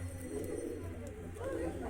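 Large female pigeon cooing softly in a loft, low throaty coos rising and falling over about two seconds, with a faint murmuring voice underneath.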